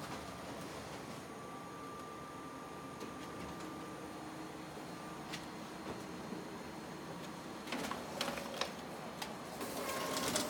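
A home printer prints an A4 PDF page, a steady mechanical whir and feed rattle with clicks and a rising clatter near the end, heard close and alone.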